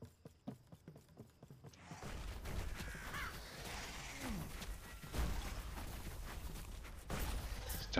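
Ravens in the video game Last Epoch give a few caws amid dense, busy game sound effects and combat noise, with no one talking.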